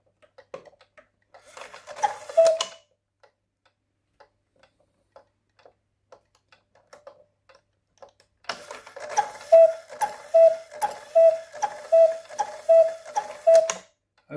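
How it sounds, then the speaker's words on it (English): Cuckoo clock bellows working, giving a short breathy puff, then a long quiet gap with faint ticks, followed by a steady run of rhythmic bellows pumps and tones, close and fairly loud. "now we know that the bellows are working"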